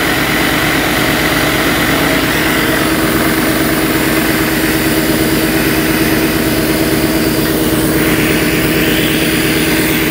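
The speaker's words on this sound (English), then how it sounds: "Sorry about the noise. Compressor's running," An air compressor runs loudly and continuously in a machine shop, a dense, rumbling mechanical drone with a steady pulsing throb and no pauses.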